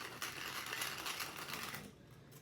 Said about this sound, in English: I like a little fresh cracked black pepper, fresh ground